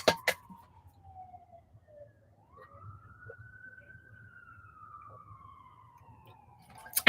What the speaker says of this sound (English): I'm not sure if you hear the sirens